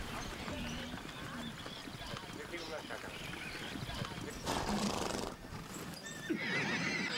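A runaway herd of horses in the Amazonian marshes whinnies and neighs amid hoofbeats and a jumble of movement, with voices mixed in, fairly distant and busy.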